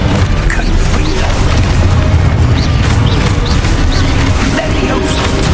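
A Confringo fire spell going off in the Hogwarts Legacy video game, a loud, dense barrage of booming blasts and crackling bursts packed into a few seconds of continuous combat noise.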